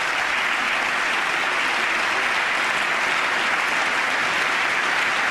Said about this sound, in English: You see the Republicans applauded to that a lot more than Democrats did.